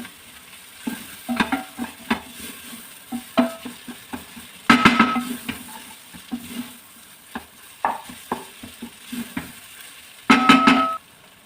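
Food with tomato paste is stirred and mixed in a pan on the stove. Irregular scraping and clacking strokes of a utensil play over a soft, steady sizzle, close by, with a few louder clattering moments and no talking.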